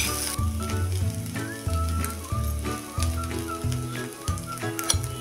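Poha stir-fried in a hot pan gives a steady sizzle and scraping that runs the whole way through. Loud background music with a strong beat sits over it.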